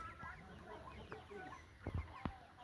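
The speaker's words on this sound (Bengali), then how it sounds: "এগুলো সব বাড়ির মুরগি আমাদের" Domestic household chickens cluck and call at a rural home, the sounds fairly close and intermittent against a steady background hum, with a couple of sharper louder clucks near the end.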